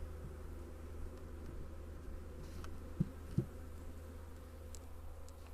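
Honey bee swarm buzzing around a laundry basket outdoors, a faint steady low hum throughout with a couple of brief soft knocks.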